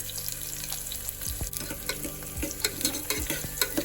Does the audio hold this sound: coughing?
no